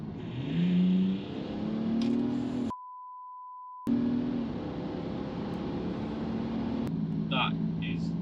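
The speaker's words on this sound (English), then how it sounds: "what is it actually like driving 475 horsepower, 750 foot-pound BMW Diesel?" A 475 hp BMW N57 diesel car with a new 3.5-inch air intake pulls hard under acceleration, its engine note climbing and rising in pitch, with a short steady electronic beep partway through and a voice talking over it.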